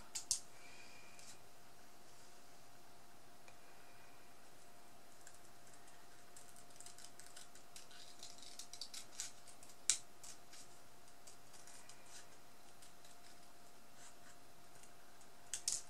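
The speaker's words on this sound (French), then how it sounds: "On découpe autour le plus près possible, mais sans découper le motif, bien sûr." Scissors snip around a temporary tattoo design while finishing a coaster, making faint, sparse little cuts and clicks close by over a steady quiet hum, with no talking.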